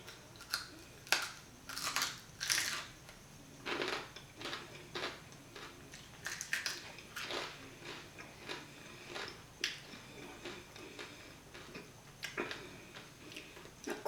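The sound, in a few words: eating crispy roast pork skin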